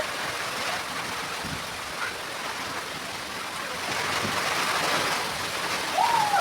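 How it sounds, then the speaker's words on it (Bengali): Light rain falls in small drops outdoors, making a soft, even hiss that swells slightly toward the end, with a faint bird call near the close. "দেখতে পাচ্ছ বৃষ্টি হচ্ছে, ছোট ছোট ফোঁটা পড়ছে বৃষ্টি"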